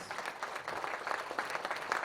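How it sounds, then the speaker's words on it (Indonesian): An audience at the i-Bot PRO soft launch claps steadily for the owner and founder, a soft, even patter of many hands throughout, heard from some distance with no talk over it. "kita beri tepukan yang meriah buat owner dan founder iPod Pro, Bapak Andreas"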